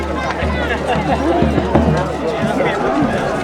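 A crowd at a medieval battle re-enactment shouting and chattering nearby, a dense continuous babble of many voices with scattered thumps and footfalls running through it.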